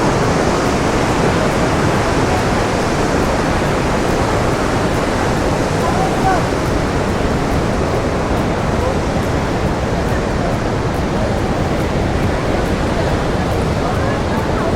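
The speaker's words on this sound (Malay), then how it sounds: "Ui, ganasnya air dia." Fierce river water rushes and roars through Tiger Leaping Gorge, a dense, unbroken wash of white noise filling the whole stretch at close range.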